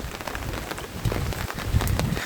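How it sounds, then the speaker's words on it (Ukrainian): Fairly heavy rain pattering close by on wet ground and puddles, an uneven splashing hiss with louder drops standing out, no voices. "такий вже чималий дощик"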